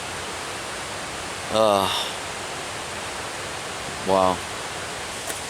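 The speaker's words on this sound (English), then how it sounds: "The sound of rushing water all night was just absolutely amazing." Steady broadband rush of a mountain stream in the Great Smoky Mountains fills the background continuously, with two short spoken exclamations breaking in briefly over the water.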